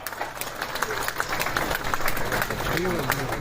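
Hearty applause greets Lieutenant Governor Manoj Sinha at the J&K Trade Show 2024, scattered sharp claps thickening into steady clapping beneath an amplified voice.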